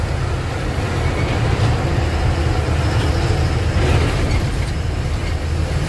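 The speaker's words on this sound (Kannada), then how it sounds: "ಬನ್ನಿ ಮೇಲೆ ಟ್ರೈನ್ ನೋಡಿ" A train rumbles past at close range on the Karwar route in coastal Karnataka, a loud steady low-pitched roar with rolling rattle that holds at even strength throughout.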